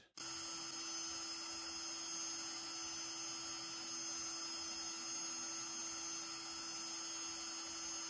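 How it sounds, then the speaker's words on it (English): A drill press drilling holes: a continuous high-pitched motorized whine runs steadily after a brief start, loud and close, with a constant tonal hum and no speech. "drill the holes using my drill press"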